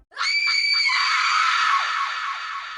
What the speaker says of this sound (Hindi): उसकी भी चीख कब्रिस्तान में गूंज गई